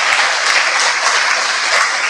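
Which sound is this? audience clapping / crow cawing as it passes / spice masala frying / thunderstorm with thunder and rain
audience clapping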